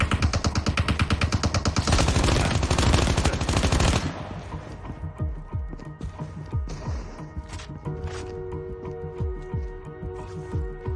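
Enemy automatic gunfire in Call of Duty Mobile, a loud, rapid sustained burst for about four seconds, then breaking into scattered single and short-burst shots with game ambience and a steady tone underneath.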